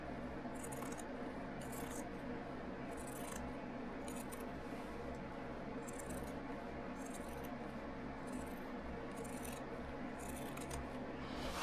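Scissors trim quilted jacket sleeve fabric in a quiet room, a steady series of soft, crisp snips repeating about once a second over a low background hum.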